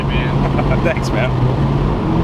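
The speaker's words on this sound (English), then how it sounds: "Crispy little downshifts." A full bolt-on Mazdaspeed NC Miata engine drones steadily from inside the car, with crisp downshift blips over road and engine noise while people talk.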